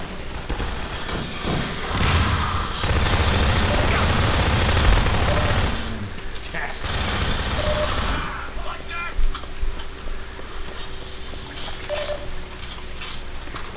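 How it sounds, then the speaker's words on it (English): Shotgun gunfire in the video game RIOT-ACT: a dense burst of blasts and thuds over several seconds, then scattered sharper shots and ticks, loud and close, with game sounds around. "You should use your shotgun close range."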